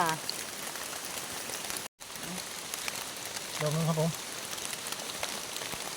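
Rain falls steadily outdoors, a constant dense patter with a brief break, while someone talks in Thai over it.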